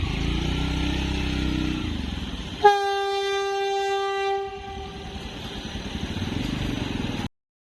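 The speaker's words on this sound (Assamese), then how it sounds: "বহুত সময় ৰোৱাৰ পাছত ট্ৰেইনখন আহিলে।" A train sounds its horn as it passes a railway crossing gate: heavy rumbling, then a sudden loud, long horn blast that fades into continued rolling wagon noise.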